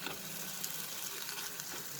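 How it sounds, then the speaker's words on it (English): Green peas fry in a pan over a medium flame as part of a puri filling, giving a steady, faint, close crackling sizzle with no voices. "So I'm going to fry this for 2 minutes over a medium flame till it starts leaving the sides."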